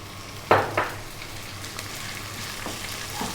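Chopped onion drops into hot oil with cumin seeds for a vegan chana dal: two sharp sizzling bursts as it hits the pan, settling into a steady, close frying hiss with no talk.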